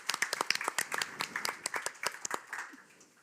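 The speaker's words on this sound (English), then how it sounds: "let's give a big applause for the excellent panel." A conference audience applauds a panel with quiet, fairly sparse clapping, separate hand strikes in an uneven rhythm that thin out and fade toward the end.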